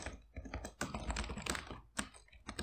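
Quick bursts of typing on a computer keyboard, faint and close, with uneven clusters of key clicks and short pauses.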